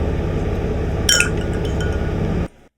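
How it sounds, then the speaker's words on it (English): Glass clinking on a layered audio track, a single bright clink about a second in over a steady background hum that cuts off abruptly at the end. "so you can hear the glass"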